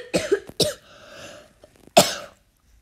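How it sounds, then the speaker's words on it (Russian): A person coughs several times, two harsh bursts close together and a louder one after a pause, nearby and with no other sound. "Ой, извините, покашлялся."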